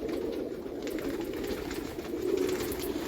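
Pigeons kept on a rooftop loft in Pakistan coo steadily in a soft, continuous murmur that stays close and even, with no voices.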